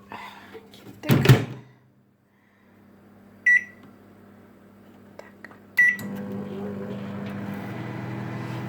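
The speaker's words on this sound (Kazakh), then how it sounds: "Ал кеттік, микроволновкаға саламыз." A microwave oven heating a gelatin hair mask, with a loud clunk of the door, a couple of short beeps, then a steady low hum as it runs.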